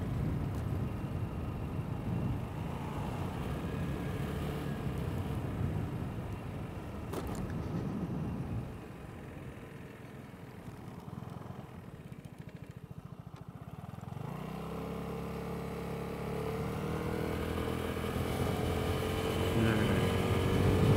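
A Vespa scooter being ridden at speed into the wind, its engine a steady drone under heavy wind rumble, with the engine note rising and shifting partway through as the ride continues.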